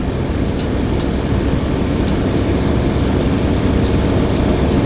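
A 50-year-old motorhome's engine runs steadily, a loud, constant low rumble filling the whole stretch close by, with no talking.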